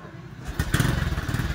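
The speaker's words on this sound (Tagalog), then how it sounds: "Umandar na yung motor" A motorcycle that had sat unused for a year starts up, catching about half a second in and settling into a close, steady, rough-running idle.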